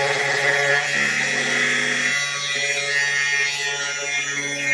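A Flex power tool with a thin cutting wheel slicing through 1/4 inch steel, a loud continuous high-pitched whine and grinding rasp with steady tone that dips slightly midway, heard close and alone.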